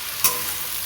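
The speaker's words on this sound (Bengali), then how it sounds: "এখানে আমি আদা রসুন বাটাটা দিয়ে দিয়েছি, এবার এটা ভালো করে কষাবো।" Ginger-garlic paste hits a hot pan and fries, opening with a brief sharp burst that settles into a steady close hiss, no voices present.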